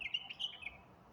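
A small bird calls from its perch on an electric wire on a dark, overcast afternoon, giving a few faint, thin chirps close together against quiet outdoor background.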